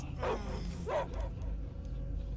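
Dog barking in the Guardians of the Galaxy video game: two short, close barks in quick succession over a low rumbling background.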